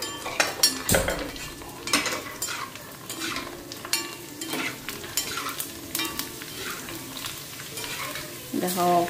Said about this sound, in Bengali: এখন এগুলা ভাজা নি।